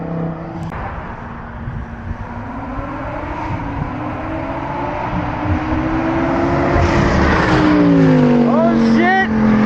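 A Lamborghini Huracan RWD EVO Spyder and a stage 2 BMW with a B58 engine accelerate hard side by side, a loud rising engine roar with intake noise building steadily and a brief tire chirp near the end.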